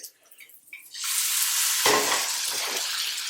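Oil frying loudly in a pan while cooking a bird's nest breakfast, a steady bright sizzle that flares up about a second in after quieter handling sounds, with a burst midway as the pan is tilted.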